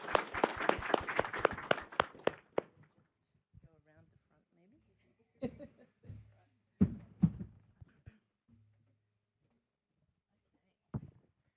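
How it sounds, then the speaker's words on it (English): A small audience at a higher-education innovation panel gives a short burst of close clapping that fades within a couple of seconds, followed by scattered quiet sounds and brief talk. "I'd like to give you a round of applause"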